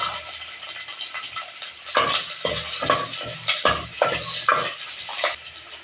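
Crushed garlic and curry leaves being stirred into hot oil in a pan, with a bright sizzle and irregular scraping stir strokes close by and no talking.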